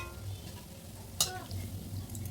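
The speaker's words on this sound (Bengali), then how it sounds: "এটা ভাজা হচ্ছে" Donuts frying in hot oil, a soft steady sizzle with a low hum beneath, broken by one brief sharp clatter midway.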